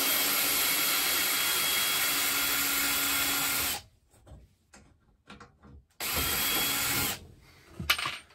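A power tool drives screws out of an RV microwave, running loudly and steadily, stopping for a quiet gap with light handling noise, then whirring again briefly.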